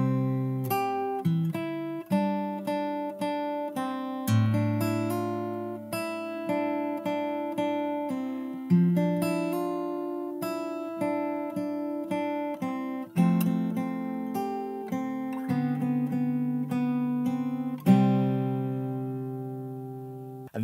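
Fingerstyle acoustic guitar plays the post-chorus of a song, with plucked chords and arpeggios that ring out in a gentle, steady pattern for about twenty seconds. The guitar is close and clear, with no talking.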